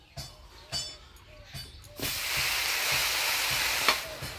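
Gourd leaf greens hit a hot wok after a few knocks and clatters, bursting into a loud, steady sizzle that holds close for the remaining seconds.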